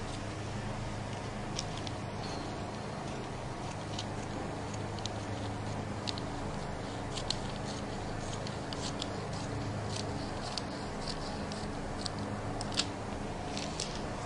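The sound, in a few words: scissors cutting out fabric for skirt waist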